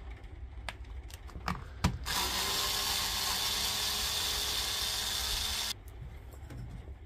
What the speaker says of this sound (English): get the screws out